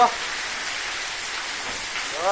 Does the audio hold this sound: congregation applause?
no